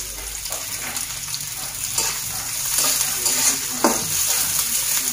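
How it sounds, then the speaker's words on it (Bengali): Onions go into a pan of already-fried garlic for a bean, potato and bottle-gourd-greens stir-fry, hissing in a steady sizzle. Scraping stirs and clinks of the spatula rise above the frying noise at intervals. "তাই এখন আমি পেঁয়াজ দিয়ে দিচ্ছি।"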